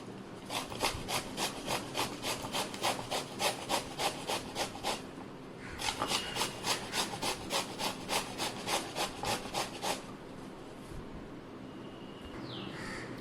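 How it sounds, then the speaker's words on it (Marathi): Bottle gourd being grated by hand, a steady run of quick rasping strokes for about five seconds, a brief pause, then another run of strokes before it stops, close and moderately loud. "हा दुधी भोपळा आपण आता किसून घेतला आहे"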